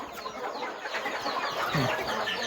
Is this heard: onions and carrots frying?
no